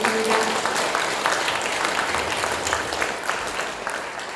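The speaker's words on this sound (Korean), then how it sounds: "우리 하나님께 영광의 박수 올려드리겠습니다." A church congregation applauds together during a worship service, with steady, dense clapping filling the room from start to finish and easing slightly toward the end.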